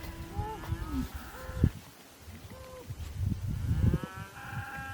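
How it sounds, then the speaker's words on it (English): Cows mooing in the morning near a boondocking campsite in a new biome, several drawn-out moos from nearby cattle overlapping one another, with quieter background sounds between calls. "Because they've been over there mooing up a storm."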